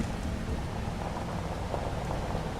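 Steady rain falling in Farming Simulator 25, a soft, even hiss with faint patter, continuous and moderately quiet throughout, no voices.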